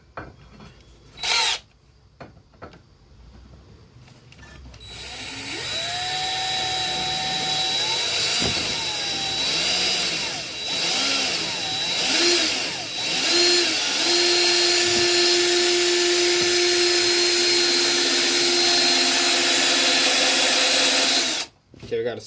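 After a few short knocks, a rider lawn mower engine starts up and settles into a loud, steady running drone, its pitch wavering and then holding high, with a voice briefly over it.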